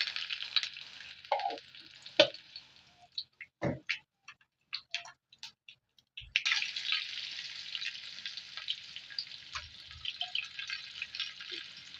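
Cumin, mustard seeds and curry leaves fry in hot oil for a ridge gourd curry, with scattered pops and crackles early, then a steady bright sizzle, quiet and close.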